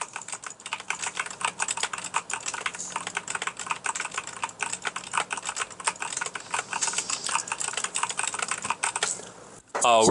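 Rapid, continuous clatter of keys on a gaming computer keyboard is picked up close by a BOYA BY-WM3T2-U wireless microphone, dense irregular clicks running for about ten seconds, with faint voice in the background.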